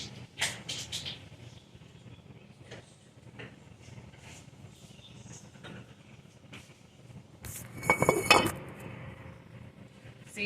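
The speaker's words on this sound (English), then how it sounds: "You stir it up." Peach cobbler batter of flour, sugar and nutmeg is stirred in a bowl, giving quiet intermittent scrapes and clinks of a utensil against the bowl, with a louder burst of clatter near the end.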